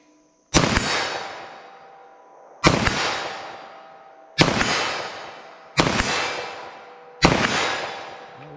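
9mm pistol firing TAC-XP +P+ rounds through auto glass into ballistic gel, five loud, sharp shots at roughly even intervals of one to two seconds, each with a ringing decay, no talking.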